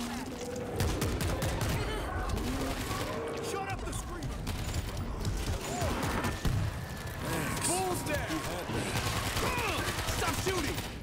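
Dense, rapid gunfire in the zombie shooter World War Z, with bursts of shots, reload clicks and game effects layered together as players shout and talk over the action.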